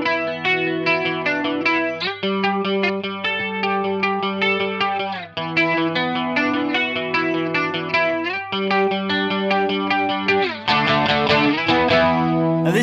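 An electric guitar runs through a Mooer Ensemble King analog chorus pedal, playing repeated clean arpeggiated notes with a shimmering, wavering chorus modulation, ringing sustain and a denser strummed chord near the end, close and loud with no talking.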